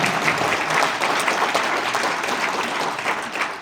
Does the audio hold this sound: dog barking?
no